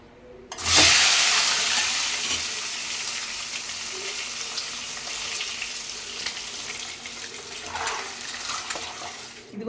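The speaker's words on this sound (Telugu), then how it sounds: "ఆయిల్ అయితే హీట్ అయిపోయిందండి. మనమైతే ఎగ్స్ వేసేసుకుందాము, గుడ్లు వేయించుకుందాము." Eggs drop into hot oil in a pan for a prawn and drumstick curry, bursting into a loud, steady sizzle that holds on with a lighter crackle and a brief flare near the end.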